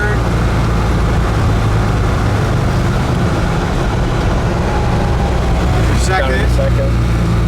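A 1965 Chevrolet Malibu convertible drives at speed with a steady loud engine drone and road and wind rush, a gear change barely standing out amid the continuous roar.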